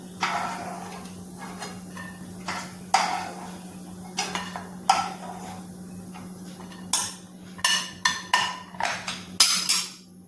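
Roasted cashews being scooped out of a pan while making a sweet dish with flattened rice (aval), with metal spoon clinks and scrapes against the pan that come in scattered bursts, several quick clatters near the end, over a steady low hum.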